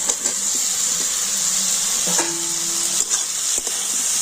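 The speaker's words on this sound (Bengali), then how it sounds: "এবার আমি ভেজে রাখা আলুটা দিয়ে দিচ্ছি" Fried potatoes go into hot spiced oil in a pan and give off a steady, loud sizzle, with a few soft stirring clicks and scrapes over the hiss.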